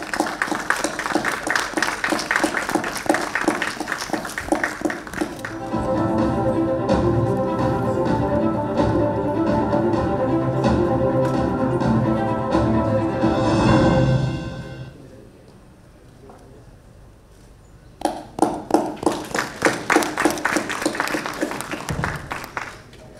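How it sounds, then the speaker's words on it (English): Audience at an indoor sustainability awards ceremony applauds an honoree: rhythmic clapping at first, then a long stretch of music-like tonal sound, a brief quiet dip, and a renewed burst of clapping near the end. "Big round of applause"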